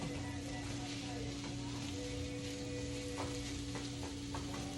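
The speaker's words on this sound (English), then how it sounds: "So I'm just gonna break that apart with my spatula" Chorizo browning in a skillet while a spatula breaks it apart, a faint steady sizzle with a few soft scraping taps, quiet and continuous beneath a constant hum.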